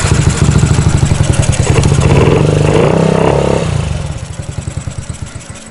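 A fuel-injected, stretched Honda Ruckus scooter engine runs close by with a steady rapid putter, swelling into a rev midway and then settling back to a rhythmic idle.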